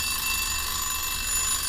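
Minute timer bell on a vintage Westinghouse stove ringing continuously, a steady, loud, buzzy metallic ring that fills the whole moment without pause.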